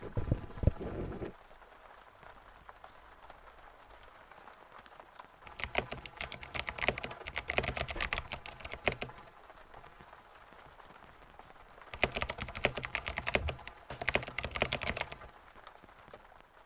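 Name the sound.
computer keyboard typing test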